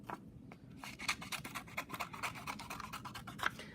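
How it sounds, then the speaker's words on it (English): Scissors cut paper ellipse shapes at close range, a rapid run of soft snips and crisp scratchy clicks in a quiet room. "I can take my scissors and cut them out"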